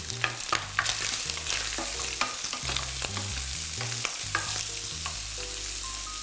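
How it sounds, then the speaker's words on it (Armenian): Onion sizzles in a hot pan while a utensil stirs and scrapes repeatedly, with no talking. "Սոխը տապակում ենք այնքան, մինչև փափկի։"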